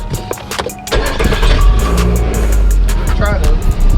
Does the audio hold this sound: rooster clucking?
no